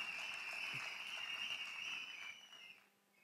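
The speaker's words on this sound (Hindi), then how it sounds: "एक जोरदार ताली होनी चाहिए" Loud, sustained applause from an audience at a motivational Success Day event in Hyderabad, steady dense clapping that fades over the final second.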